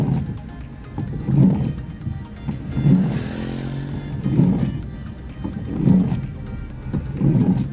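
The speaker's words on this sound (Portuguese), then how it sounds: "Olha os ônibus, que legal." Buses and other vehicles pass one after another on a road during a storm, each one a swelling whoosh that rises and fades. Rain hiss runs underneath throughout, and no one speaks.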